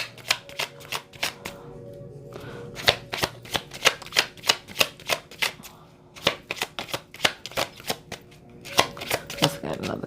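Tarot cards shuffled by hand for a reading: quick rhythmic riffles and slaps in close succession, crisp and near, with brief pauses between bursts and no voice over them.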